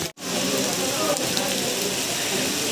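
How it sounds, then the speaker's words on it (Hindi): Heavy rain pours down at a Chamunda temple site in Dewas, a loud, steady, close hiss of drops striking surfaces that continues without letup after a brief dropout at the very start. "भारी बारिश हो रही है, रुकने का नाम ही नहीं ले रही है।"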